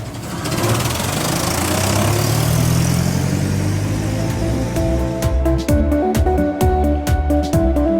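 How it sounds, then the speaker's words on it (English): A city bus engine rumbles loudly and steadily nearby, a deep continuous drone that builds and then shifts into a pulsing, rhythmic knocking toward the end, with no voices. "City bus."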